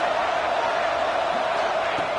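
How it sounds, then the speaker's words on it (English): Football stadium crowd during a College Football Playoff first-round game, a steady loud roar of cheering that fills the whole stretch without a break. "Listen to the crowd energy here in the early going."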